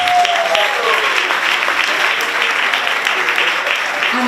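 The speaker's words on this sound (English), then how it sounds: "Can we give him a round of applause?" An audience at a beauty pageant gala breaks into sustained applause, a dense, even wash of clapping that fills the room for several seconds.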